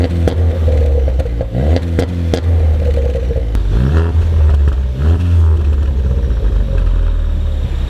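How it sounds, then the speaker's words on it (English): A 2013 Ford Focus ST on its stock exhaust with the resonator deleted gives a loud, close, deep droning rumble, with several quick rev blips and gear changes along the way, and no talk. "This Ford Focus ST actually has its stock exhaust, but it has a resonator delete to give it that little rumble."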